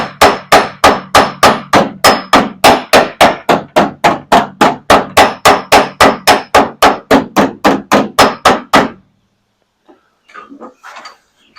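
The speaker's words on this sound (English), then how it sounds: "I'm going to try a little hammer-on dolly to stretch the metal" Rapid, steady hammer-on-dolly blows stretch the dented metal of a car door, about thirty sharp metallic strikes in a fast even rhythm, loud and close. A short pause follows, then a few faint scrapes.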